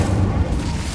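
A deep, booming fire-spell blast from Incendio cast in Hogwarts Legacy near a cave entrance, a dense low rumble filling the whole second at steady loudness.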